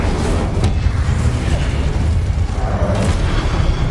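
Fire spell blasts in the game Hogwarts Legacy, a loud, continuous rumbling boom with crackling bursts that stays dense and heavy throughout, no talk over it.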